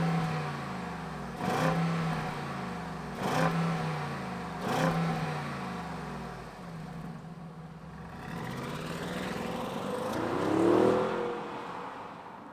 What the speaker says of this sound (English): let's fire this up and see if a luxury SUV, what kind of sound it makes